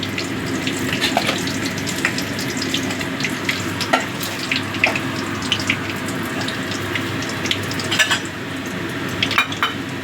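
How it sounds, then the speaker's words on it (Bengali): Whole cumin seeds frying in hot oil for a chicken kosha, a continuous crackling sizzle with scattered sharp pops and a few metallic clinks of a spoon, close and fairly loud with no talking. "এবার ওই তেলের মধ্যেই আমি দিয়ে দিচ্ছি গোটা জিরে"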